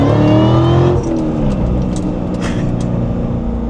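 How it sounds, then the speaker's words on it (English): A supercharged C7 Corvette engine revs hard with a deep, aggressive growl, rising and holding loud and close, a supercharger whine layered over the roar. "I love this car, and it sounds so aggressive, so mean with that supercharger."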